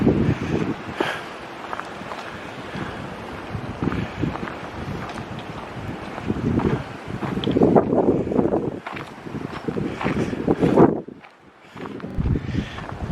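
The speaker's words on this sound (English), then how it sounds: "There seems to be a lot of wind blowing today." Wind blowing across a park trail at Huron Natural Park in Kitchener, Ontario, buffeting the microphone in rough gusts that swell and fade, with rustling and occasional footsteps underneath.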